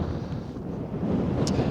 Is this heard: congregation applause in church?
no